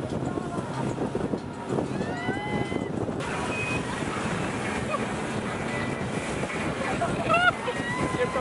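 A jet boat speeds along the Thames in London, a loud steady rush of engine, water spray and wind buffeting, with thin whistling tones and a brief louder gust near the end.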